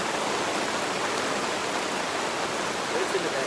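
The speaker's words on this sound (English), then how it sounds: "Listen to that beautiful rain." Steady rain hisses down onto open water, a dense, even wash of sound with no pauses or voices.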